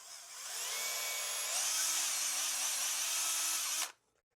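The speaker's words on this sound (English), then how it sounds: "And you're just going to ream these grips out." A power drill spins an emery-cloth reamer inside fishing rod grips, a steady high whine with a low motor tone that rises slightly midway, running alone for nearly four seconds before stopping abruptly.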